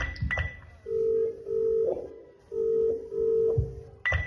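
A telephone dials out, with brief keypad beeps followed by repeated long ringback tones in steady bursts, heard close and clear in a school skit setting.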